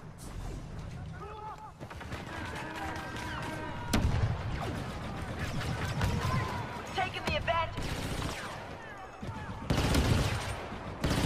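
Repeated gunshots and automatic fire in Star Wars Battlefront 2, crackling bursts under a voice talking, mixed with game music and effects, loudest in sharp volleys.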